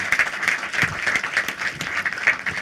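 An audience at a Startup Canada financial literacy event claps for four entrepreneurs, brisk continuous applause with distinct nearby claps standing out.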